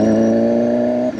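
A motorcycle engine in sport mode holds a steady, tonal rev on the throttle for about a second, then cuts off abruptly near the end, close and clear with no talk over it.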